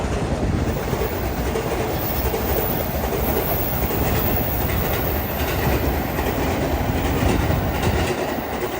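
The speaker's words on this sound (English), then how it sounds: "So that was not a Yamanote line train." A Tokyo commuter train rumbles past steadily and loudly, with continuous rolling wheel noise and faint rhythmic clatter throughout, no voices.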